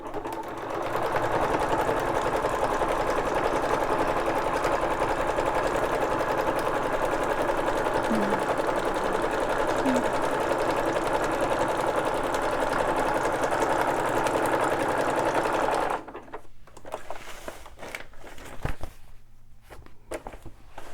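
A sewing machine runs a zigzag stitch in one steady, fast mechanical whir for about sixteen seconds, then stops, leaving quiet handling noises.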